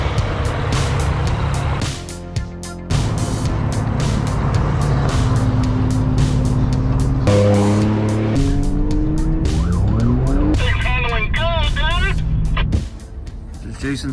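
First start of a 450 hp supercharged ZR2 engine, a loud continuous engine roar with revving swells and a whining tone rising and falling, a brief dip near the start and sustained throughout, ending abruptly.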